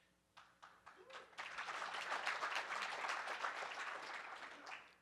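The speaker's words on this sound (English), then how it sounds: "I believe you drew applause for both sides of the nuanced argument" Audience applause at a CAP Ideas 2019 policy event with Rep. Adam Schiff: a few scattered claps at first, then a dense, sustained round of clapping from a sizable crowd that holds steady and begins to taper near the end.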